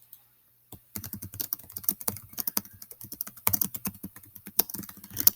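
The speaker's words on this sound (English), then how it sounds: "And then I would type my answer." Typing on a computer keyboard, a close burst of quick, uneven key clicks after a short silence, continuing in irregular flurries with no talking.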